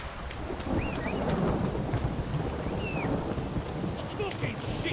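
Heavy downpour with rolling thunder in The Witcher 3, a constant dense hiss of rain under low rumbling, with faint chirps and a voice briefly in the background.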